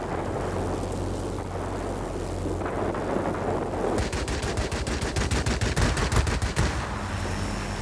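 Rapid bursts of 20mm aircraft cannon fire in World of Warplanes rattle out over a roaring engine drone, the shots fast and loud for a few seconds.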